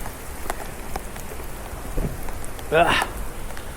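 Steady hiss of heavy rain falling on surfaces, with occasional louder splashes and a brief rustle near the end.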